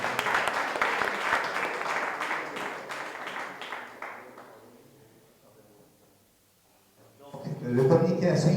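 Applause from a press conference audience, a dense burst of clapping that fades away to near silence before a voice begins speaking again.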